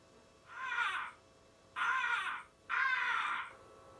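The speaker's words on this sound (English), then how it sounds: "That crow named Squawk was pecking the seeds on Farmer Pickles' field" Three loud, harsh crow caws, each about half a second long and evenly spaced, come from the Bob the Builder PS1 video game over a quiet background.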